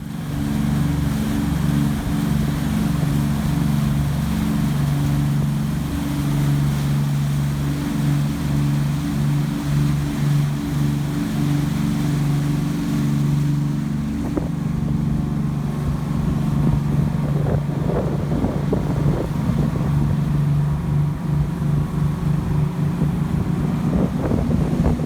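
A Tollycraft 48 motor yacht runs wide open at full throttle, its engines a steady, loud, deep rumble that never lets up, with heavy wind buffeting and water rush over it.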